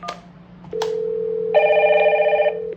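A Dinstar IP desk phone rings with an incoming call: a short tone that holds steady, then a warbling electronic ring that sounds once for about a second, close and clear with no talking.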